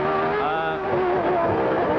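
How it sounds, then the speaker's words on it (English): A Formula One McLaren engine at the 1989 Spanish Grand Prix revs in a steady, loud high-pitched whine, pitch sliding down then rising, slightly distant and mixed with broadcast ambience. "Now he's getting up to what sound like normal revs, but he badly missed them low there."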